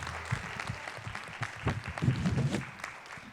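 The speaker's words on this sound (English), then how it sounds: "Give him a round of applause for that." An audience at a community suicide prevention forum claps briefly, with moderate scattered clapping and some low background rumble over a few seconds.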